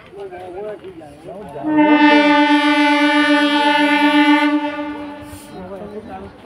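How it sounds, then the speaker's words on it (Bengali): A train sounds a long, loud, steady horn blast lasting about three seconds as it pulls into a station, with some faint chatter before and after the blast. "আমার ট্রেন আসছে"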